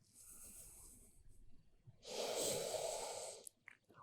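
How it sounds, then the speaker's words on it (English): Slow, deep breaths during a yoga session: a faint inhale, a pause, then a louder, breathy, hissing exhale lasting over a second, close to the microphone with no talking. "Breathing in and out."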